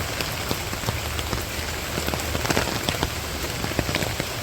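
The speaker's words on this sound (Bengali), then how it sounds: "আর বৃষ্টি ওইরকম নাই, কমে গেছে গা, কমে গেছে ধরতে গেলে, হালকা হালকা নামতেছে" Light village rain patters steadily on surrounding surfaces, a dense, even hiss of drops with small scattered taps, continuous throughout with no voices.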